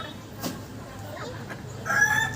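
Hens cluck quietly amid some knocking, then a rooster calls out loudly near the end.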